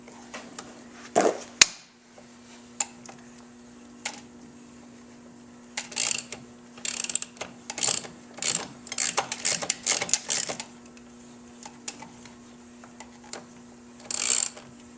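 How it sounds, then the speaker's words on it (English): A ratchet wrench loosens the brake caliper bolts on the lower fork mount of a Victory motorcycle. It gives quick bursts of close, crisp clicking with short pauses between them, over a low steady hum. "You're just simply unbolting the caliper from the lower fork mount."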